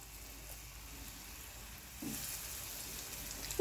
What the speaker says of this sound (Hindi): देखिए धीरे धीरे आराम से मैं सेलो फ्राई कर रही हूँ